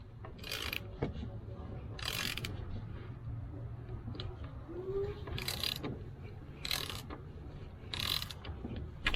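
Ratchet wrench loosening the oil drain plug on a 2003 Dodge Durango during an oil change, giving repeated creaking, clicking bursts in separate strokes over a steady low background hum.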